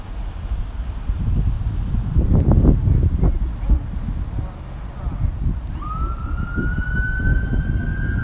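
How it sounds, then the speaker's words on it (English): An emergency siren from an ambulance or fire engine rises in pitch and holds a steady wail near the end, heard over wind buffeting and low vehicle rumble near a roadside testing site, with a voice speaking earlier. "That's like an ambulance, guys. Ambulance or a fire thing."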